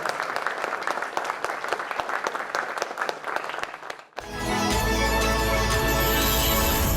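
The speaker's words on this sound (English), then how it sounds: "can we have a warm round of applause for sir once again?" Warm applause from a film festival masterclass audience, dense steady clapping for about four seconds that cuts off abruptly into loud broadcast music.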